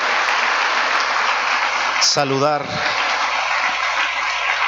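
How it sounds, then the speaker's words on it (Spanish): Church congregation applauding during a Sunday service, a steady wash of clapping throughout with a voice speaking briefly over it midway. "Este aplauso es para darte la bienvenida."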